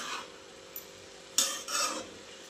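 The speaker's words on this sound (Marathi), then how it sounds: "आता व्यवस्थित हलवते सगळं आणि झाकून ठेवते." Cabbage is stirred in a pan while cooking into a bhaji, with a few short scraping and clinking strokes of a spoon against the pan over a quiet background, close and without talk.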